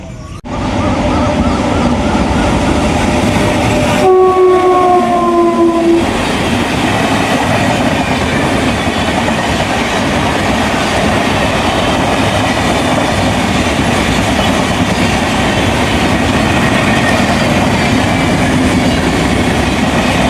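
A train at Kamalapuram railway station rolls past with a loud continuous rumble and rattle of wheels on track, a brief horn sounding early on.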